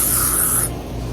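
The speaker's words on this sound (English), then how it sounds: "The first thing I'm gonna do is I'm gonna spray my hands." A pump can of insect repellent sprays onto hands outdoors in a small container garden, one loud, close hiss lasting about half a second before cutting off abruptly.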